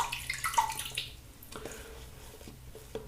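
Tap water runs briefly to wet a 26 mm two-band finest badger shaving brush, a short splashing stream up front that fades to quieter trickling and drips, with no talking.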